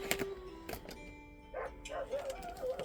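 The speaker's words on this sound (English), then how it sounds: "Sorry if you hear the dogs." Several dogs barking indoors during a storm, a few sharp barks followed by whiny yips and whimpering, moderately distant and quiet.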